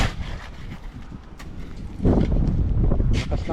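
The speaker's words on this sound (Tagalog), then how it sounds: "Lakas ng hangin." Gusty wind buffets the microphone in uneven bursts at a house extension construction site, growing heavier and rougher partway through, with a few faint sounds in the background.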